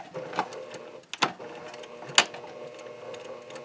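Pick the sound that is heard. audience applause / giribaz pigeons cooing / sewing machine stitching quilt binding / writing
sewing machine stitching quilt binding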